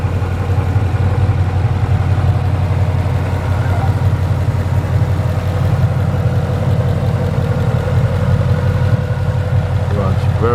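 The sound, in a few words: 2012 Ford Mustang Boss 302 engine idling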